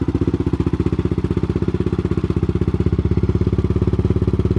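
A 450 motocross motorcycle engine fires up and runs at a steady, fast-pulsing idle, loud and close throughout with no one talking.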